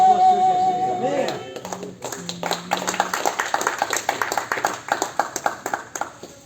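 A church congregation breaks into rhythmic clapping after a few seconds of speech, with steady, fairly loud hand claps continuing to the end.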